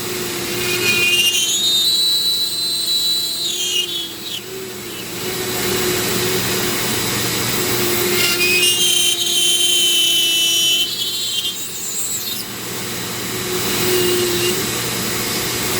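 A Dremel rotary tool grinds with a burr while carving a fairy castle, a loud steady whine that rises and falls in pitch as it bites into the material and eases off, repeating over several passes.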